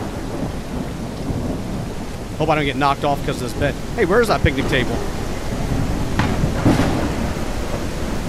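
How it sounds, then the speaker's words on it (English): A thunderstorm in the survival game Mist Survival brings a constant hiss of heavy rain with low thunder rumbling throughout, while someone talks over it. "before it gets too crazy outside, you know, with the rain and lightning and maybe the storms"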